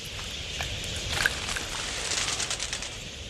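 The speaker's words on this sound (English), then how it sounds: "Flock pigeons share the budgerigar's roving and social nature." A flock of pigeons gathers at an Australian waterhole, wings fluttering and soft calls blending into a continuous airy rustle, fairly close with scattered sharper flaps.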